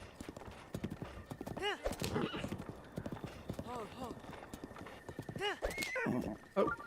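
Horse in The Legend of Zelda: Breath of the Wild, replayed on Switch 2: repeated whinnies and snorts over steady clip-clopping hooves, fairly close, with a person talking throughout.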